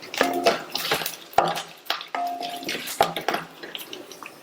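Cut dried red chillies go into a pan where cumin seeds and curry leaves are already frying. A spoon knocks and scrapes several times over a light crackle of frying.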